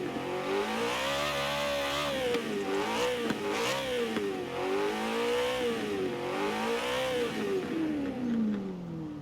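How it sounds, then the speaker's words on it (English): A BMW M3 GTS V8 in Forza Horizon 4 rumbles and revs steadily, its pitch rising and falling through several swells before climbing at the end, loud and close with no voices. "it's got a really nice V8 rumble to it"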